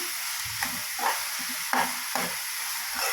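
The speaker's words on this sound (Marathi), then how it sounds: "थोडासा मऊसूत कांदा व्हायला पाहिजे." Onion softens as it fries in a pan for a mushroom curry, with a soft continuous sizzle and a few spatula scrapes and stirs every half second or so, close by and without speech.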